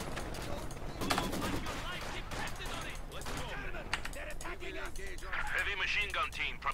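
Heavy machine gun bursts in a World War II real-time strategy battle, rapid rattling volleys and scattered gunfire running continuously at moderate level, with spoken unit voice lines over the combat.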